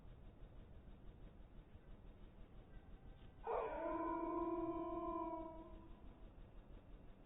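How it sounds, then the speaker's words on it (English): A single howl from a wolf in the Space Engineers video game, rising suddenly and holding for about two seconds over a low, steady background hum. "And we gotta deal with these doggos."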